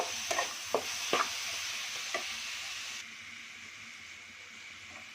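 A spoon stirs a mango and jaggery mixture for holige filling in a hot pan, with a soft sizzle under a few scraping clacks early on, then a quieter steady hiss.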